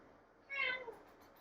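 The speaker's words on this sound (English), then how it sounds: "We have a really vocal cat with us today" A single short meow from a vocal cat named Lucifer, fairly close and clear against a quiet background.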